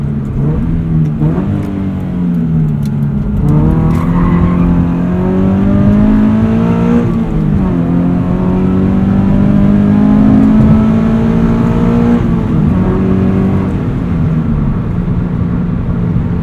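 Subaru BRZ on Direzza ZIII tires accelerating hard up an entrance ramp and through higher speed corners, its engine note rising steadily and loud, with several gear changes breaking the climbing drone; no talking.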